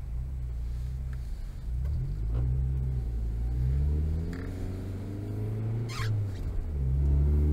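A car engine rumbles and accelerates on a town street, low throaty revs rising and falling through several gear changes, heard from inside the vehicle with no talk.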